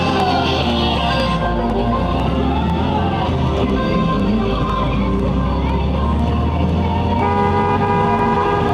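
A stuck horn on a 1957 VW Beetle convertible blares continuously and loudly, a steady droning honk that never lets up, with street traffic and voices in the background.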